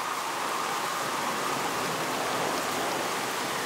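Steady, dense hiss of rain falling, continuous and fairly loud, with no pauses or voices.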